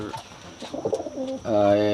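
A young white Pakistani pigeon coos close by, soft rolling calls building into a sustained, louder throaty coo near the end, with no talk.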